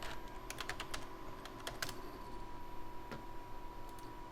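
Fingers type on an old 2000s computer keyboard at an early RGB desktop, a quick run of close clicky keystrokes in short bursts with small pauses, faint and alone without talk.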